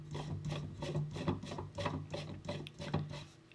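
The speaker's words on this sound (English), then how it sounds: "Now you can screw in the adapter for your dust bag." Plastic dust bag adapter being screwed by hand onto a DeWalt DCW200 1/4 sheet palm sander, giving a steady run of close, rhythmic rasping and rubbing twists, about eight turns in quick succession, with no talk.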